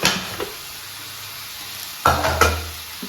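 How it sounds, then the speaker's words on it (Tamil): Ingredients for sambar sauté in a pan, giving a low, soft sizzle with a few distinct scrapes and knocks of a ladle, one near the start and a cluster toward the end, close by with no talk. "இது நல்லா வதங்கிட்டு இருக்கு"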